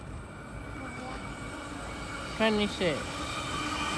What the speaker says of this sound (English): we have a Tangara passing platform